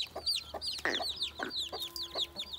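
Chickens clucking and squawking among a mixed flock of birds, a busy string of sharp, chirpy calls and short clucks at close range, uneven in rhythm with quick overlapping bursts and a brief louder flurry near the middle.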